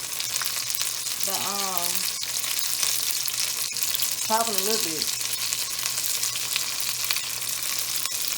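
Battered pickles coated in Hot Cheetos deep-fry in a pot of oil, giving a continuous close crackling sizzle throughout, while a person speaks briefly twice over it.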